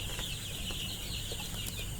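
Broiler chickens on a rooftop farm cluck and chirp softly in a flock, with faint, scattered high calls over a low, steady background hum.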